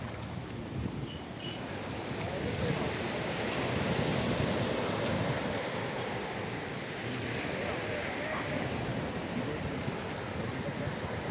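Ocean waves break and wash continuously on Payyambalam beach in Kerala during a Vishu festival outing, a steady roaring surf with wind noise across the microphone and no clear voices.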